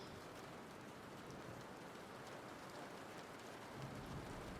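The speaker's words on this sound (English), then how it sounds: "Pardon the rain sounds." Steady rain patters on surfaces with a faint low rumble of distant thunder, a continuous even wash of sound with no voices.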